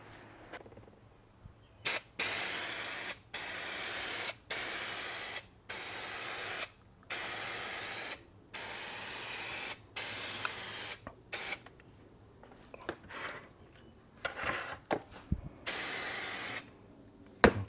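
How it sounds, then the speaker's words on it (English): Spray glue hisses from a can onto the door sill of a 1991-2005 Acura NSX in about a dozen steady bursts of one to two seconds each, close and loud, separated by short pauses. "Immediately after I spray the glue on here, I'm going to remove the tape."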